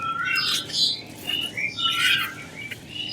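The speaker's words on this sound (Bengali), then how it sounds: "দেখো কোকিল ডাকছে" An Asian koel calling from trees near a mango orchard on a hot summer day, giving several loud, rising, squawking calls in quick succession against a quiet background.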